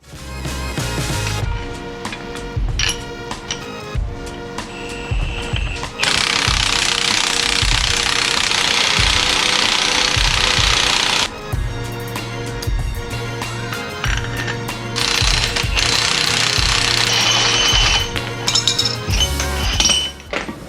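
Metallic clinking and clattering around a Honda Civic EG wheel as extended lug nuts are fitted for wheel spacers, with bursts of loud, broadband whirring like an impact tool between sharp close taps.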